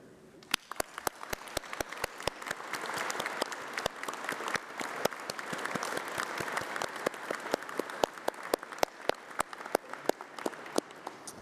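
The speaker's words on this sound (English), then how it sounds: "let's have a round of applause for all those special people, your family, your friends, your tutors" Applause from the audience at a UCLan university graduation ceremony, a steady wash of many hands with sharp, closer individual claps standing out throughout.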